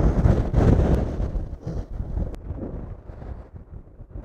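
Motorboat pushing through rough sea with heavy wind, with loud buffeting wind on the microphone over a low rumbling engine and water wash, strongest at the start and easing toward the end.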